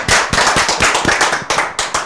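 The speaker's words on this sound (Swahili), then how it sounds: "The Mũngais [[makofi]]." A crowd gives quick bursts of loud, close clapping that surge and fade in several rapid waves, with no voices over them.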